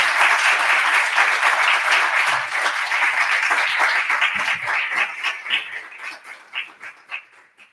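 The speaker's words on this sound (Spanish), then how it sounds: "un fuerte aplauso para Minke." A lecture audience gives loud, sustained applause to welcome a speaker on earth construction, dense clapping that gradually thins into scattered individual claps before dying away.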